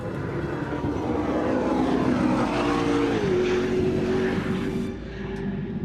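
A McLaren P1 hypercar engine roars loud and close, holding a steady drone whose pitch rises and then steps down near the middle, with no voices.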